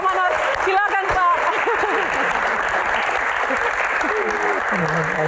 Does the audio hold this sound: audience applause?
yes